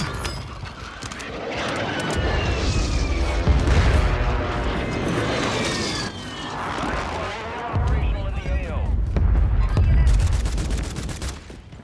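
Loud, rumbling bomb explosions and heavy gunfire in a video game battle, with repeated booms and bursts building and fading across the whole stretch.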